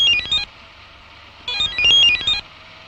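A cordless phone's electronic ringtone chirps in two short bursts of warbling high tones separated by a pause, loud and close with nothing else heard.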